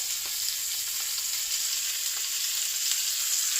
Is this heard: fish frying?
yes